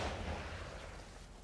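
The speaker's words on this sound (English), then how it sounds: "These guys hear this loud-ass explosion and don't look immediately to the explosion?" A heavy explosion in the Sniper Elite 5 video game: a deep, rumbling boom at the start that slowly fades, with no talk over it.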